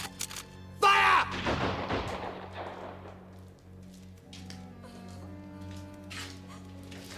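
A firing squad's rifle volley cracks out once as a single loud, close burst, then echoes and decays into a low rumble with a steady background hum.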